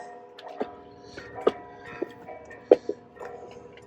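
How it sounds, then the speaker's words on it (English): Church bells ring at a distance, a few separate strikes spaced unevenly over a quiet outdoor background. "so the church bells are going here."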